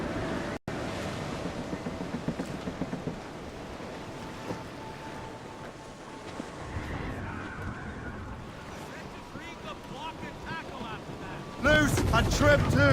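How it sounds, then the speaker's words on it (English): Wind and waves at sea in the video game Assassin's Creed Rogue, heard aboard a sailing ship: a steady, dense rush of wind and surf throughout that swells into a louder gust near the end. "That wind's trouble, Captain Cormac."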